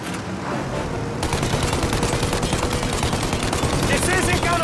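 Rapid gunfire in the Mafia video game, shots aimed at the engines of a plane preparing to take off, forming a dense, loud, continuous rattle over a roaring backdrop with shouted voices mixed in.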